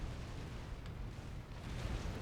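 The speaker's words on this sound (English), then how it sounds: "finds himself taking fire from this plasma cannon" A plasma cannon fires in a Supreme Commander match, heard as a low, muffled rumble of distant booms with one brief sharper burst, faint and blended with constant battle noise.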